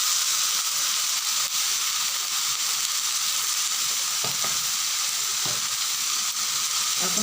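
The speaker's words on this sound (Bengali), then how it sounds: "এখন খুব ভালো করে নাড়াচাড়া করতে হবে।" Taro pieces frying in a pan with salt and turmeric give off a steady, close sizzle, with a few soft scraping stirs near the end and no talking.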